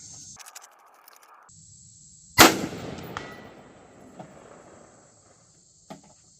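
A single rifle shot from a rapid-fire session through a 1-6x24 LPVO scope cracks loudly and close, followed by a faint metallic ding from a swinging steel target downrange, with insects buzzing steadily in the background.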